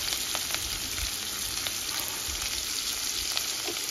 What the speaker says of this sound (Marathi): आता आपला कांदा अर्धा कच्चा आपल्याला भाजून घ्यायचा आहे।